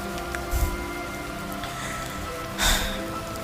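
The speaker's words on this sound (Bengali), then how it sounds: "হঠাৎ বৃষ্টি আসে চেপে।" Rain falls in a steady broadband hiss, with a couple of louder splashing swells partway through and no voices.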